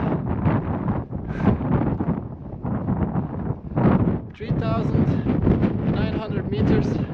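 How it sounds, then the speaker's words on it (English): Strong wind on a mountain top at 3,900 meters near Ala-Kul Lake, Kyrgyzstan, buffets the microphone in heavy roaring gusts while a person talks underneath. "it's super windy here."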